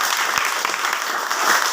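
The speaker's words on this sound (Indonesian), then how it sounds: "Tepuk tangan bagi Tuhan." A congregation at an Indonesian church service claps together, a dense, steady wash of applause that fills the room at close range.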